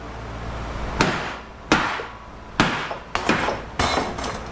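A hammer knocks parts off large HID light fixtures being scrapped for copper and aluminum: five sharp, loud metallic whacks, each followed by a short ringing decay, spaced irregularly about a second apart.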